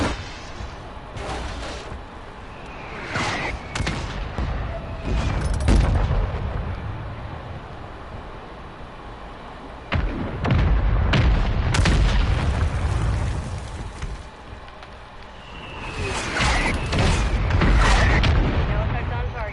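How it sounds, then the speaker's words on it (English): Mortar strike explosions in the video game Warzone 3: a series of heavy booming blasts with rumbling tails arrive in clusters, loud and close, while players talk. "Mortar strike inbound now."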